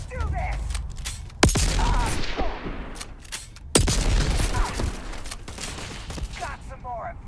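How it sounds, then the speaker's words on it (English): Gunfire and grenade blasts in a Starfield fight, with two sharp, loud detonations standing out over a dense, continuous rattle of shots and crackling. "Oh, it's a grenade war."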